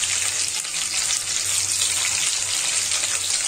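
Garlic frying in refined oil, a close, steady, crackling sizzle that holds evenly throughout with no voices.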